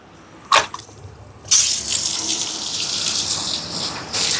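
Water runs steadily from a tap, a broad hiss that starts after a couple of brief knocks and continues without pause.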